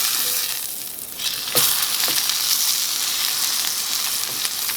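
A T-bone steak sizzles and fries in a cast iron pan just after being flipped, a steady loud crackling hiss with a couple of sharp spatters partway through, no talking.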